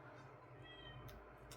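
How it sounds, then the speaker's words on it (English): A pet cat meows and yowls in an agitated fit somewhere in the background of a quiet room, faint and distant, with a couple of brief higher cries near the end. "You can hear my cat in the background throwing a hissy."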